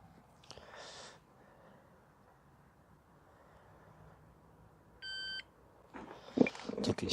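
A single short electronic beep, steady and clear for about half a second, sounds from a device amid quiet outdoor background noise, with some rustling and handling sounds around it.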